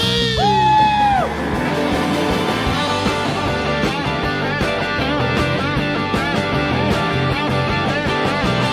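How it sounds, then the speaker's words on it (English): A concert crowd screams and whoops at a live show, a dense sustained roar of many voices with music playing underneath, loudest at the start and continuing steadily throughout. "Everybody scream."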